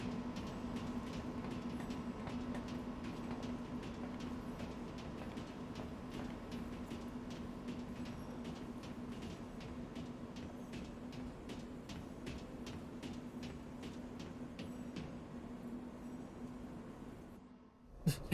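A train running in the video game Lost Odyssey, a steady low rumble with rhythmic clacking that holds evenly throughout and cuts off near the end.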